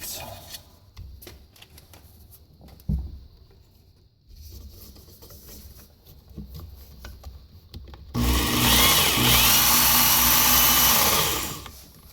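A Work Sharp blade grinding attachment fitted with a 4 micron belt sounds first as light scraping and tapping, then starts up into a loud, continuous whirring grind for about four seconds, close by.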